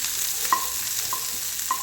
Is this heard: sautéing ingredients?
yes